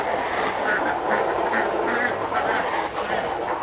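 Several farm ducks kept with meat birds quack repeatedly and close by, a busy overlapping chatter over steady background noise throughout.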